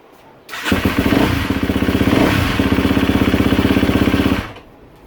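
A KTM 250SXF four-stroke dirt bike fires up on a test start, catching after a brief pause and idling with a steady, rapid, close-up mechanical putter and rattle before cutting off abruptly.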